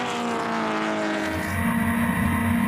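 A BMW 2002 Ti and a Triple X Rover race car run flat out on a high-speed section at Goodwood, a continuous loud engine drone that grows slightly rougher and closer toward the end.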